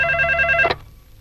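A telephone rings on the far end of a call, a bright electronic ringing tone that repeats briefly and then cuts off abruptly, leaving near silence.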